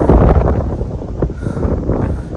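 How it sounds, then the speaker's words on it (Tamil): Strong wind roars across an exposed mountain top on the Velliangiri Hills in Tamil Nadu, a loud, continuous buffeting gust that batters the microphone with no voices over it. "செம காற்று"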